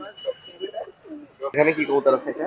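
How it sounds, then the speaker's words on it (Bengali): Oman pigeons coo in soft, low repeated phrases nearby at the Gollamari pigeon market in Khulna, then a person starts talking over them. "এইখানে এক পেয়ার ওমান কবুতর"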